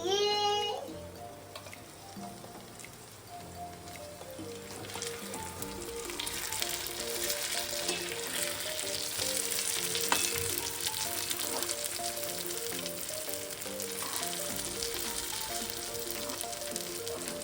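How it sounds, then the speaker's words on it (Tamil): Stuffed brinjal (eggplant) cooking in a pan, a steady bright sizzle and frying hiss that builds and continues, with background music playing alongside. "இது இன்னும் கொஞ்சம் நல்லா வதங்கணும்"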